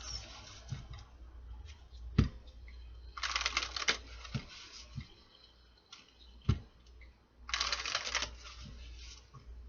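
Two bursts of rapid riffle-shuffling tarot cards, each lasting about a second, with soft taps and handling clicks between them in a quiet room.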